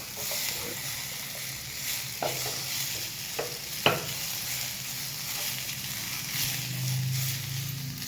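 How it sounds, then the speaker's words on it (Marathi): Onion and tomato frying in a pan, a continuous close sizzle with a few sharp scraping stirs and clacks, no voices. "इथं आपलं कांदा आणि टोमॅटो पण फ्राय झालेला"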